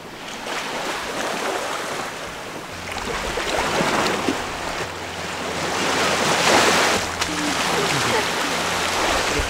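Waves washing onto Sabai Beach near Emerald Cave, a steady broadband surf roar with wind noise across the microphone, swelling louder toward the end, and no talk.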